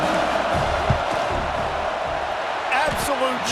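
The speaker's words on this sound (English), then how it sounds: "This crowd trying to do its part to get inside the kicker's head" College football stadium crowd roaring to rattle the kicker before a field goal, a dense sustained roar with a commentator talking over it and some brief whistling near the end.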